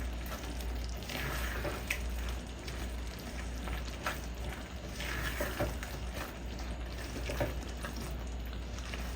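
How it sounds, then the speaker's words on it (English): Alfredo meat pasta sauce, with a spoonful of sugar just added, sizzles in a pan while being stirred, with soft scraping strokes recurring over a continuous close frying hiss. "Stir it on in really good"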